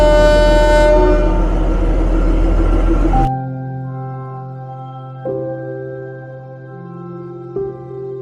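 Shimla toy train at a mountain railway station, a loud rumbling engine and horn-like tones that drop abruptly to a steady idling hum, with a couple of soft clanks from the cars.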